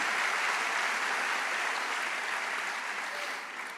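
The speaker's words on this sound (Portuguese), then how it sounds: "Vamos aplaudir ao Senhor, meus amados." A church congregation applauding at a conference, a dense, even roar of clapping from a large crowd that holds steady and eases slightly at the end.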